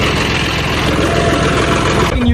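A tractor engine runs loud and close in a steady, throbbing chug that cuts off abruptly near the end, with voices over it.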